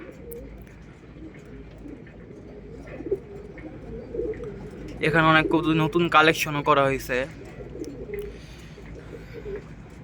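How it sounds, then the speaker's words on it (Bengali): Male and female pigeons in a loft coo in soft, low bursts, rising to a louder cluster midway, beneath someone talking. "এই যে নর আর মাদি কবুতর।"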